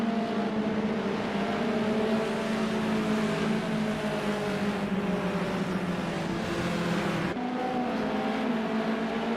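A pack of BMW race cars in a sim racing game at Indianapolis drones steadily at full throttle, layered engine whines holding on without letup throughout.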